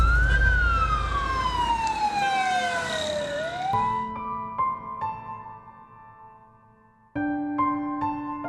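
An emergency siren wails nearby, first a loud sweeping tone falling in pitch, then a repeating two-tone pattern that fades out and returns abruptly close and loud, set in a hospital drama scene.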